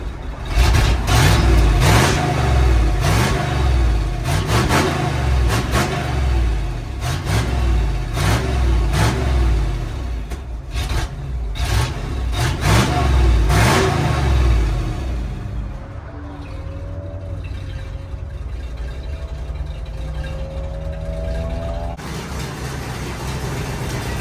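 A 1967 Ford F100 truck, abandoned for about 20 years and leaking gas, runs loud and rough with rhythmic pulsing revs, then settles to a quieter idle with voices faintly over it.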